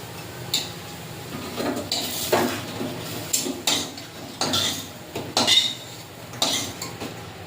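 Fried lentil fritters are lifted out of a pan, with repeated metallic clinks and clatters of utensils against the cookware, close and intermittent.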